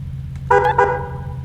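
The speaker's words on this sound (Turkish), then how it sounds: "Bu da havlu kornası." An air horn on a 2018 Dodge Challenger in Euro Truck Simulator 2 gives two short, loud, close blasts in quick succession over a low steady engine hum.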